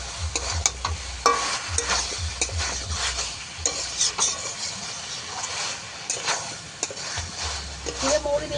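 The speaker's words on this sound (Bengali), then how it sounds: "আরও একটু কষিয়ে নেব।" Ground cumin and fennel paste frying with masala in a pan alongside cooked green banana, crackling sizzle under frequent scraping stirs with occasional metallic clinks of a utensil, close by, with faint background noise.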